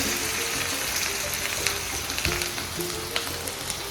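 Chopped ginger and green chili sizzle steadily in hot oil in a pan alongside whole cumin, a dense, continuous crackle with small pops close by.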